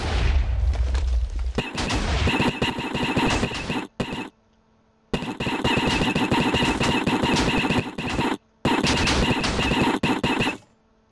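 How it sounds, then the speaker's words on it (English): A beam from the Holobeams plugin in Minecraft fires as loud, dense blasts of crackling, booming noise that cut in and out in several bursts, with short silent gaps between them. "There's also a new sound for the beam. Actually sounds like a beam now."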